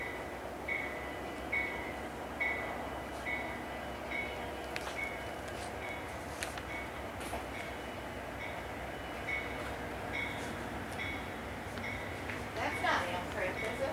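An Amtrak Capitol Limited passenger train with Superliner cars rumbles past in Sandusky, Ohio, with steady rolling noise and faint rail squeals, while people talk quietly nearby.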